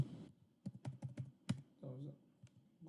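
Computer keys clatter in quick irregular bursts while someone writes code, close and fairly quiet, with short pauses between clusters of strokes and a bit of talk at the start.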